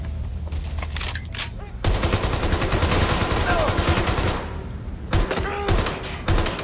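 Rapid automatic gunfire in the video game Watch Dogs Legion, a dense sustained burst of loud shots that drops briefly and then resumes in shorter volleys, with voices underneath.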